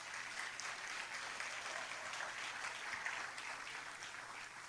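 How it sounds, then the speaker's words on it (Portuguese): A lecture audience at a church talk claps together in a steady, even wash of applause, faint and distant throughout. "Pode bater palma para o garoto lá."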